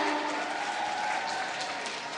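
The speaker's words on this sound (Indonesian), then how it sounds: "Boleh tepuk tangannya dong semuanya." Audience applause at an inauguration ceremony for new organisation leaders, a steady, fairly distant wash of clapping from a large crowd lasting the whole moment.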